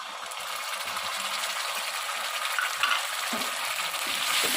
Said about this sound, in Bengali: দিয়ে আমি ভালো করে কষাতে থাকবো যতক্ষণ না মশলার কাঁচা গন্ধটা যায়